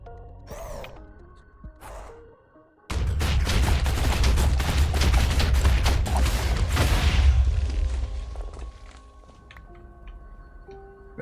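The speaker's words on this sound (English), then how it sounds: "we are going to be defeating the wither inside of the end hub" Minecraft wither fought in a wither killing chamber in the video game: a sudden dense burst of rapid crackling, clattering hits and explosive noise lasting several seconds, framed by quieter game tones before and after.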